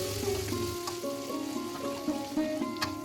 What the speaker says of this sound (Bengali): টমেটো কুচিটা তেলের মধ্যে খুব ভালো করে ভেজে নিচ্ছি